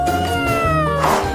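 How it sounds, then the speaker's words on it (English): A single drawn-out cat meow, close and clear, with a falling then rising tone lasting about a second and a half. "I also want to look like a cat. Meow."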